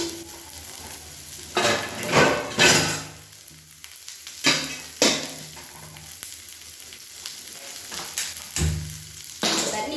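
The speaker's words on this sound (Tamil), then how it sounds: "வெங்காயம்லாம் நல்லா வதங்கணும்" Onions sautéing in a pan for a home-cooked meal, with a steady close sizzle broken by louder bursts of frying and stirring scrapes every couple of seconds.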